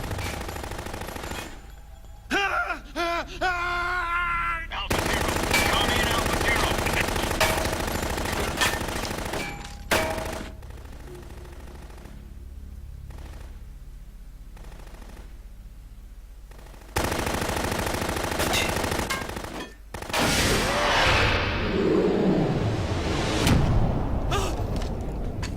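Bursts of rapid automatic gunfire in the Metal Gear Solid 2 video game come in several loud stretches, broken by short quiet gaps, with echoing booms and clatter near the end.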